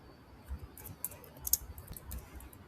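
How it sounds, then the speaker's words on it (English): Light typing on a computer keyboard, a few soft scattered key taps at an uneven pace, faint and close. "So let me type"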